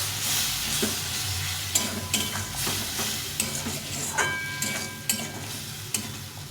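A pre-soaked paste of cumin, chili and turmeric powders fries with vegetables and soya chunks in a pan: a continuous loud sizzle broken by clacking spoon strokes, close up with no voices.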